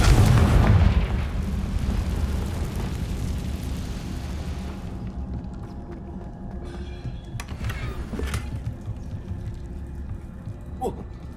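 A Confringo blasting spell goes off in Hogwarts Legacy: a loud, dense burst opens the moment, then a long rumbling tail fades beneath the game's ambience, with a few faint sparkling accents later on.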